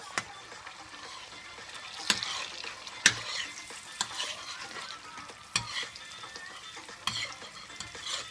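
Eggs stirred in a hot frying pan, a continuous sizzle with scraping stir strokes and sharp clicks of the utensil against the pan, close and without talk.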